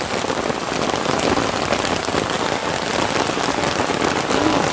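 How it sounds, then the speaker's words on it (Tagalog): Heavy rain pouring during a typhoon, a dense, loud and constant hiss of drops hitting surfaces with no pauses, heard alone without talk. "dahil bagyo ngayon saka ang lakas ng ulan"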